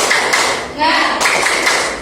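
Children in a classroom science lesson clap a rhythmic spirit cheer together, a few close, sharp group claps in a quick pattern over a steady chatter of young voices.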